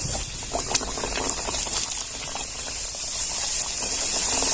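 Pumpkin puris frying in hot oil, a continuous bubbling sizzle with soft popping crackles that grows gradually louder toward the end, close and alone with no talk.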